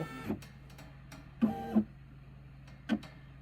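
A Brother SE700 embroidery machine runs its outline trace, moving the hoop around the lettering. Three short motor whirs rise over a steady low hum, with quiet gaps between them and no talk.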